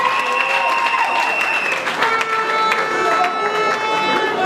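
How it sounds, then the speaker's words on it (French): Wedding guests at a religious ceremony break into loud, dense applause, a continuous wash of clapping from a full room with scattered crowd murmur and a few raised voices mixed in. "On l'applaudit très fort"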